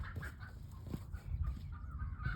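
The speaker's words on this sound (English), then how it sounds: "We got chickens fussing?" Backyard chickens fussing and squawking in a garden, a low, faint cluster of repeated clucks and honk-like calls with steady background noise, no talking.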